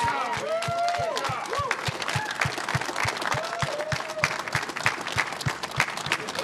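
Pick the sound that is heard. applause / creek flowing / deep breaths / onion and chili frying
applause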